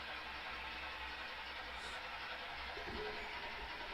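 Model train running on a layout, a Concord J3A locomotive, giving a steady continuous rolling rumble and whirr throughout with no distinct clicks, even in level and fairly quiet.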